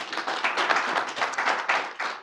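An audience at a press conference applauds, steady overlapping hand claps filling the room without pause from start to finish.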